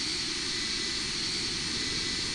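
An airliner taxis toward the runway in the Roblox game Flightline, a steady loud jet engine whine and roar that holds evenly throughout with no talking.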